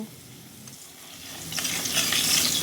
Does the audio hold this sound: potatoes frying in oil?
yes